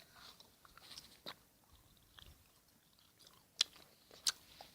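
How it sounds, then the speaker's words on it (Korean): Soda-flavored candy is chewed close to the microphone in a quiet setting, producing faint, sticky wet smacks and a few sharper crunchy clicks at irregular intervals, with nothing else audible. "질겅질겅 소리."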